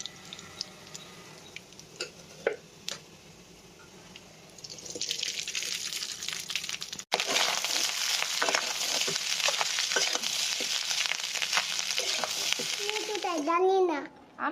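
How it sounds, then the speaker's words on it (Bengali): Black cumin dropped into hot oil for fried rice, a quiet start that bursts into loud, crackling sizzle partway through and keeps frying steadily, with a voice briefly at the end. "এবার তেল দিয়ে তাতে কালি জিরা দিয়ে দিলাম।"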